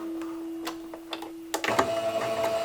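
A domestic sewing machine stitching fabric for a phone holder, with a steady hum and a few light clicks before a louder burst of rapid mechanical stitching with a reverse backstitch, close and alone.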